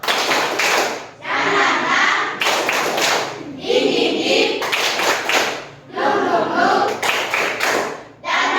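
A classroom group performs a rhythmic clapping chant, bursts of loud unison clapping alternating with chanted voices in a repeating pattern, close and lively.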